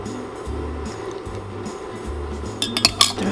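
A spoon scrapes and stirs through peanut sauce of creamy peanut butter, water and fish sauce in a pot, with a steady low rumble, then a few sharper clinks against the pot near the end.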